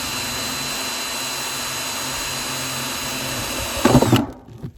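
A power drill bores a drainage hole into a plastic planting container, a steady high whirring that ends in a short burst of grinding as the bit breaks through, then stops.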